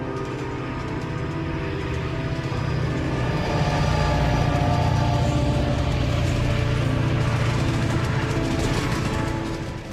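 Freight train 413 rolls along a mountain rail line, a continuous low rumbling drone with a dense mechanical clatter, loud and sustained throughout with no voices.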